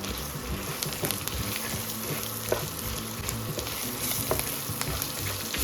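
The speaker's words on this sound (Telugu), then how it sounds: "పోపట్టి అలా ఫ్రై అయింది" Asafoetida tempering fries in hot oil for South Indian temple-style tamarind rice, a steady close sizzle with faint crackles and light stirring throughout, no talk.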